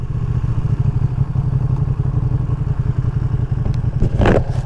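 A 2023 Ducati Panigale V2 sport bike on city streets around New York, its engine giving a steady, loud low rumble throughout, with a brief higher rise near the end.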